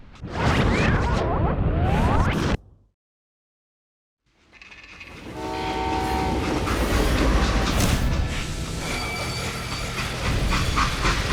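A freight train in the Western video game Call of Juarez: Gunslinger rolls loudly on the rails with rumbling and clattering wheels. A brief silent gap breaks it before the heavy rolling noise builds back up and continues.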